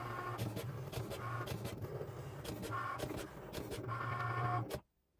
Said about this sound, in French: Le petit logo Cricut va se mettre à clignoter et j'appuie dessus pour lancer la découpe.